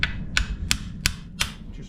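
A hammer strikes a small threaded part five times in a steady rhythm, each sharp metallic tap close and distinct over a low rumbling background.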